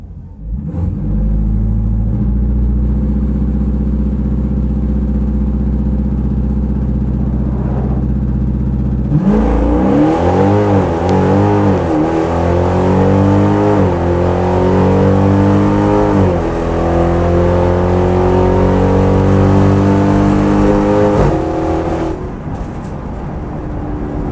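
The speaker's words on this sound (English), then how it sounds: "So Transbrake, both paddles, brake, rev up, bump to pre-stage, let go of a paddle, let go of a brake, and then go." A Dodge car idles with a deep, loud rumble, then revs hard and launches off the transbrake, its engine note climbing and dropping through several gear changes before easing off near the end.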